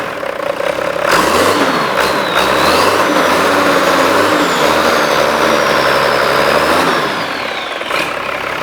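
A 4WD with a 12HT engine fires up and rumbles loudly up close, its revs swelling and settling before it drops back toward a steady idle.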